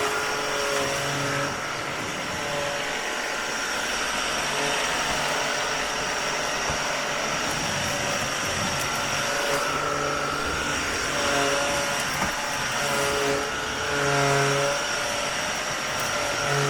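A cordless stick vacuum cleaner, UWANT or Ryobi, runs continuously while picking up popcorn from the floor, giving a steady whining motor drone with faint tonal hum and slight surges as it works, close and alone without speech.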